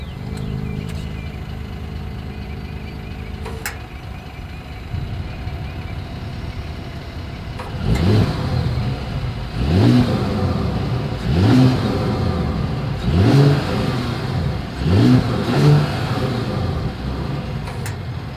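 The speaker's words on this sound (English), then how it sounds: "here is that exhaust clip" The exhaust of an idling 2020 Mercedes-Benz GLS 450 SUV rumbles low, then revs sharply several times in quick bursts, each rise and fall clear and close.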